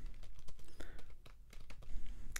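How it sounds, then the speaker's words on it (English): A message typed on a computer keyboard: a close, steady patter of key clicks with uneven rhythm and a couple of louder taps, no voices. "And then type in your message, and then you just send it like any email"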